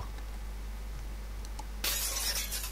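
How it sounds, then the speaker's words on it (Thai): In the video game Ao Oni 2, after a quiet, humming stretch, glass suddenly shatters loudly, the bright crash and tinkling pieces continuing to the end. "กระจกแตก"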